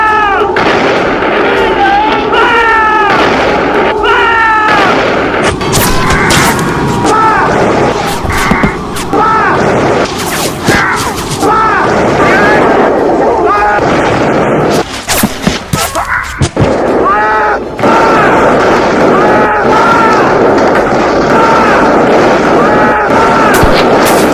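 Rapid gunfire and booming artillery salvos from a LEGO war battle, loud and dense, with bursts and heavy thumps repeating throughout while shouted commands and voices sound underneath.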